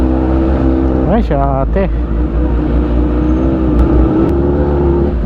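A car revving during a test drive at a festival in Pangasinan, the engine droning loud and close with a couple of sharp rising revs early on, while people talk nearby.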